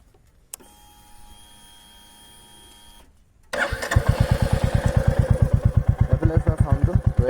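A new motorcycle sits quiet after a single click, then its engine catches about halfway through and settles into a loud, even idle with a steady, rapid thumping beat, heard up close.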